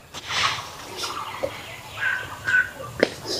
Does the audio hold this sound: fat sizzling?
no